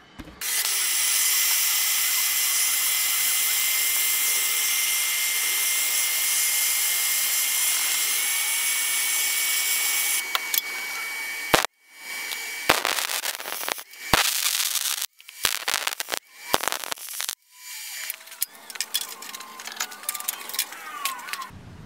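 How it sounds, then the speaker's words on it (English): A welder fuses a socket into a new tool for a Scion axle job: ten seconds of continuous loud crackling sizzle, then a long run of short, broken bursts of spitting and popping with brief gaps between them. "so we're gonna make this a new tool that I will keep for the Scion. So yeah, let's get the welder."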